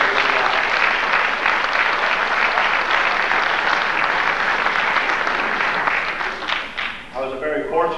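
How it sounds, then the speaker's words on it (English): A crowd applauds loudly and steadily at a school spring sports awards ceremony, the clapping thinning out near the end. "I think he deserves a big round of applause."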